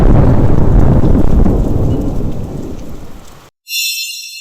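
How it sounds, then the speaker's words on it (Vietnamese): Heavy thunderstorm rain with rumbling thunder and gusting wind in an animated 3D film, a loud dense roar that gradually eases over a few seconds before cutting out, then a brief high tonal shimmer. "gió nổi ào ào, mây phủ mịt mù, sấm chớp lóe sáng phía chân trời"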